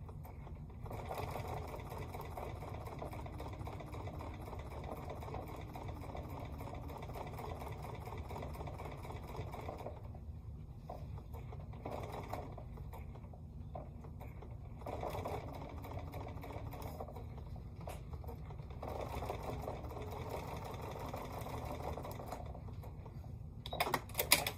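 A sewing machine runs steadily for nearly the whole stretch, stitching joined 6 1/2-inch fabric squares around a curve, with brief slowdowns and pauses as the fabric is guided; close and even, with no talking.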